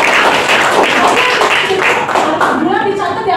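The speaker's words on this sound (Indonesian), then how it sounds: "Kita kasih tepuk tangan dulu." A classroom of people breaks into clapping, with rapid claps running throughout at close range and voices mixed in over the applause.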